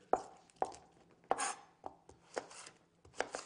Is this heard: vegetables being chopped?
yes